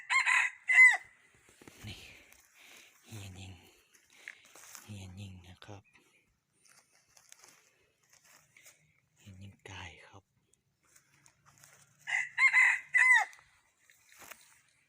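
A junglefowl rooster crows loudly twice, once at the start and again near the end, with quieter clucking and soft voices in between.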